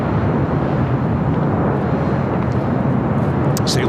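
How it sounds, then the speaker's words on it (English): A Korean Air Airbus A380 rolls across a runway at LAX, giving a loud, steady broadband jet roar that fills the whole stretch with a dense low rumble and no pauses. "as we wait for the Korean A380 Super to cross over"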